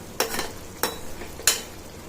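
Mutton head curry is stirred in a pot in three quick, separate scraping strokes, fairly quiet and evenly spaced, with a faint simmer between them.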